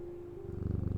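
A cat purrs in the Strange Antiquities video game as it is petted, a soft, low rhythmic rumble that swells into steady pulses toward the end of a brief moment.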